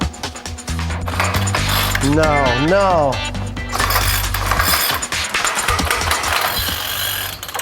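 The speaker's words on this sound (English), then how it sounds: "It's just too much torque for this motor." A small motor in a leaf blower rig strains under too much torque, its mechanism grinding and ratcheting loudly with a rising and falling whine midway, while people talk over it.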